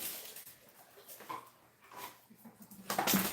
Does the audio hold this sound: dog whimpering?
yes